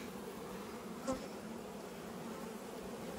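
Honey bees buzzing in a mild winter with trees in flower, a steady faint drone that stays even throughout, with one brief louder pass near the middle and no voices.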